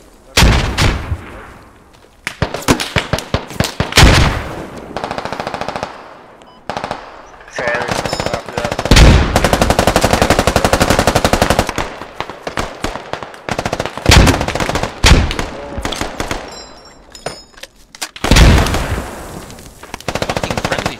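Sustained automatic gunfire in the tactical shooter Squad, a friendly-fire exchange with long loud bursts and scattered single shots over about twenty seconds, with a voice shouting briefly between them.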